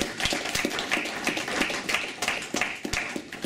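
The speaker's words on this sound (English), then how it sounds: "So give yourselves a clap" A small audience at Milton Keynes' 50th birthday celebration gives scattered, uneven clapping, a moderate patter of individual hand claps at close range, with no speech.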